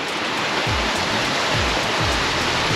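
Arcadia Creek in Kalamazoo, Michigan, pours into the Kalamazoo River with a constant broad hiss of rushing water and a few soft low thumps underneath.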